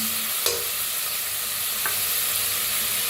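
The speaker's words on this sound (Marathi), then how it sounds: "मटर आता छान भाजले बघा" Peas roasting in a pan for masale bhaat sizzle steadily, with two sharp scrapes of a spoon stirring them, close and alone without talk.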